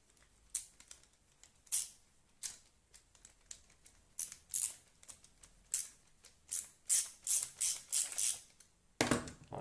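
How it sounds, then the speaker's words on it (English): A 5/8 inch screw is driven through the trigger of a homemade toy gun, heard as a series of short, close ratcheting and squeaking turns that speed up toward the end. "You want to take a 5/8 inch screw, place it through the hole,"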